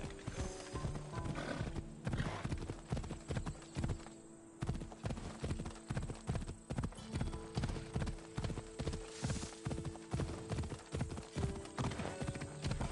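Horse hooves clip-clop in a steady, close rhythm on hard ground in a game set in ancient Athens, with a brief pause near the middle and a faint whinny over background music.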